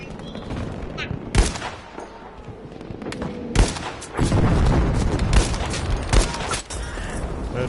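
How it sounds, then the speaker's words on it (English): Gunfire in the Battlefield V video game: repeated loud shots and bursts crack through a steady battlefield rumble, several sharp blasts spread across the stretch amid an ongoing firefight. "Where did that gunfire come from?"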